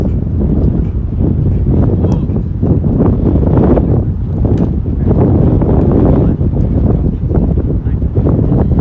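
Strong wind roars continuously across the microphone on a sunny, windy day at a boys' soccer game beside the old RFK Stadium, a loud, steady rumbling buffet with no break.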